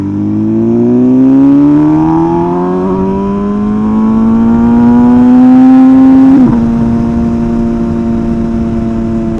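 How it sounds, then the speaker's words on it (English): An MV Agusta motorcycle on a night ride, its engine droning and climbing steadily in pitch, loud and close, with a brief sharp exhaust pop before the note settles again. "oh my god, the pops on this bike"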